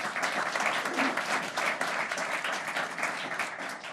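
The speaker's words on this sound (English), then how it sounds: "Let's give them a round of applause." An audience at a memorial design unveiling gives a round of applause, steady and even, clapping throughout at moderate volume.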